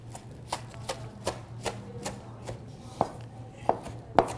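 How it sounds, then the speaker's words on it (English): A kitchen knife rough-chops fresh lemon basil leaves on a cutting board before they go into a blender, giving a steady series of crisp, close thuds that grow sharper toward the end over a faint low hum. "Since I'm just rough cutting it, and I'm gonna put it in my blender."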